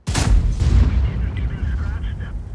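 Tank gun firing in the World of Tanks game, a single heavy boom with a sharp onset that rolls off into a rumbling tail, loud and close.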